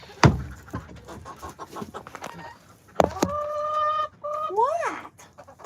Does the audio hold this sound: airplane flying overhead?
no